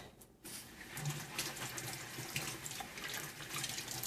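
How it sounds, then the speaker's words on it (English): Hands are rinsed clean of cake dye under a running tap into a sink, a steady close splashing hiss after a short quiet start, with no talk. "I'm going to rinse my hands"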